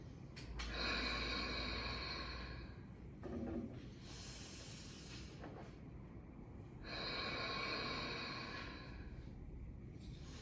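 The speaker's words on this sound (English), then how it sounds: "as we go up, we're breathing in, and then we're pushing down on the hands to breathe out." Slow, deep yoga breathing with a long audible inhale-exhale cycle, hissing breaths close to the microphone across roughly ten seconds, alone without talk.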